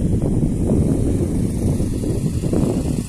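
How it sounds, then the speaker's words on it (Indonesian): Continuous low wind buffets the microphone at Cirata Lake, a heavy rumbling rush that swells and dips slightly throughout. "kondisi angin lagi lumayan kencang"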